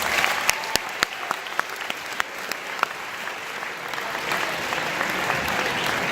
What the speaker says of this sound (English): Let us give Holy Angel University a big round of applause.